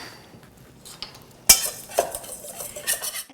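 A whisk stirs dry baking ingredients (baking soda, xanthan gum and salt) in a bowl, with a few sharp clinks and scrapes against the sides amid quiet rustling.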